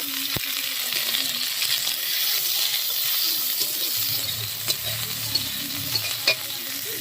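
Onions frying in oil with cumin, dried red chilli and crushed whole garam masala for a country chicken curry. A loud, continuous sizzle is heard close up, with occasional metallic clinks from stirring and low voices in the background.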